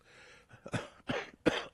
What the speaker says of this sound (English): I'm tired of coughing.